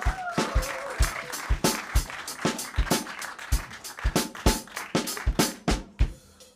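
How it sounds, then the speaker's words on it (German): A small audience at an unplugged show in a Ludwigsburg venue claps for a performer, distinct sharp handclaps in an uneven rhythm, fairly close and sparse rather than a dense roar. "Einmal ein Applaus"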